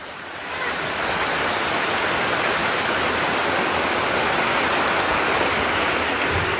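Heavy rain pouring down during a hurricane in Jamaica, a dense, steady hiss of falling water that swells in within the first second and then holds loud and unbroken.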